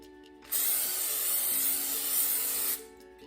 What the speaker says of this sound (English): I'm going to give a quick spray to my crock pot with some butter-flavored Pam